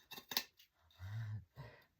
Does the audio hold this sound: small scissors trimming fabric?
yes